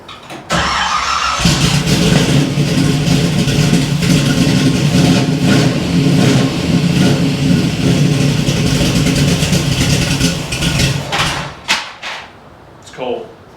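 A 1967 Camaro engine starts and runs loud and close, a rough steady roar with some revving, then cuts out near the end, with voices heard under it.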